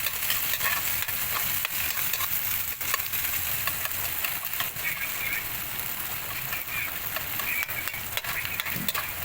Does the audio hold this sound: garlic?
yes